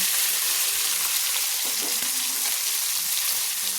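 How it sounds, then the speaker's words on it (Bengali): Steady, close sizzling of fish heads frying in hot oil, with occasional soft pops and stirring sounds. "মাছের মাথাগুলো লাল লাল করে ভেজে নিয়েছি"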